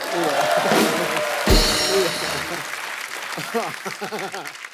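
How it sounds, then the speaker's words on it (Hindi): A studio audience on a TV comedy show breaks into applause, a loud burst of clapping and cheering that carries on under speech and laughter. "जोरदार तालियां"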